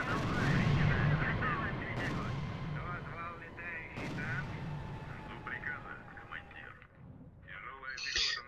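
Artillery fire in the strategy video game R.U.S.E. booms as sharp blasts at about two and four seconds over a steady rumble of battle noise, with someone talking throughout.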